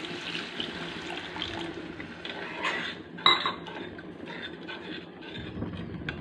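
Water poured into a pan of cooked-down spices for a Bengali rupchand fish curry: a steady close rushing splash with one sharp metallic clink partway through, no voices.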